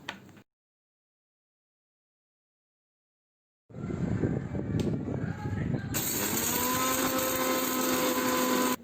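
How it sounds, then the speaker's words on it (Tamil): A mixer grinder runs on roasted coriander seeds, pepper and cumin. After a brief silence it starts with a loud, coarse rattling roar, then settles into a steady high-pitched whirring whine that continues close up. "முதல்ல வறுத்த மல்லியோட மிளகு சீரகம் சேர்த்து மிக்சியில் அரைச்சிக்கலாம்."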